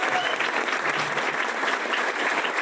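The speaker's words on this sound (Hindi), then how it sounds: "मेरा ख्याल से जोरदार तालियां" An audience claps at a car celebration ceremony at an office in Okhla, New Delhi, producing dense, even applause from a crowd that holds steady and fairly loud for a few seconds.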